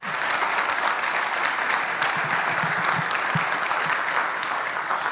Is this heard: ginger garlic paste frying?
no